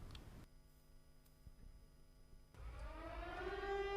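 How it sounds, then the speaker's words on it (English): Air raid warning sirens begin winding up in Lviv during the war in Ukraine, a faint hum giving way to rising, wailing civil defense siren tones that grow louder from a distance. "we have air warning sirens and we have to go to the bomb shelters"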